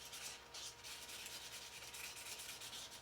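Fine 1000-grit sandpaper is rubbed back and forth over Victorinox knife scales, a faint, close, steady scratchy hiss with gentle rhythmic strokes and no voices.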